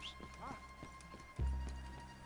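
Horse hooves clip-clop across the ground in Red Dead Redemption 2, a short run of taps with a heavy low thump midway, set under game sounds and a whinny-like tone.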